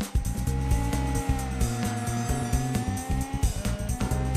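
A Lancia Stratos HF rally car engine drones loudly and steadily, its pitch rising and dipping with gear changes and throttle, close and continuous with no talk.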